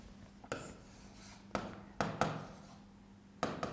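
Chalk or marker strokes on a board during a physics lecture on energy loss of heavy charged particles, a few short scratchy bursts with quiet gaps between them.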